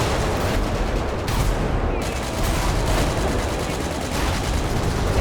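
Rapid, dense gunfire and explosions in a chaotic tank-and-vehicle shooting game. The bursts are loud and steady throughout, with no clear talk over them.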